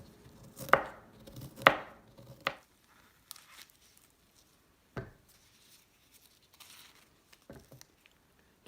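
Fruit being chopped with a knife on a board for fruit chaat, three sharp close cuts in the first few seconds followed by fainter scattered knocks and quiet scraping.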